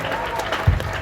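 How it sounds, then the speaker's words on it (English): Brief burst of congregation hand clapping at a church revival service in Bungoma, Kenya, dense and crowd-wide with a loud swell near the end, over a low rumble of voices. "Let's celebrate him with a mighty hand clap."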